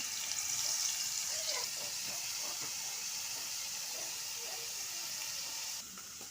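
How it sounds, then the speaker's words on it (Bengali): Prawns frying in oil for a Bengali taro-leaf dish, giving a steady close hiss and sizzle that holds throughout and eases slightly near the end. "এখন চিংড়ি মাছগুলো বেজে নেব"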